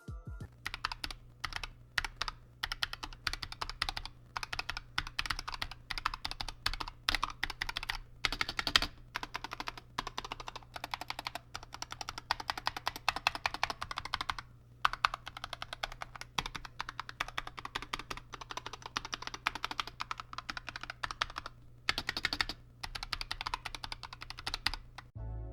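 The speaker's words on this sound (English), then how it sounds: "now we'll do a sound test with the optical mechanical switches" Rapid, continuous clicking of keys being typed on a Razer Huntsman TE keyboard with optical mechanical switches, close and crisp, with brief pauses between bursts.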